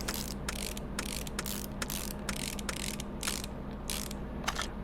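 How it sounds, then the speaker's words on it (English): A rapid series of mechanical ratcheting clicks comes from a drive shaft being installed in Car Mechanic Simulator, sounding in repeated bursts over a steady low hum, with no talking. "Install the drive shaft."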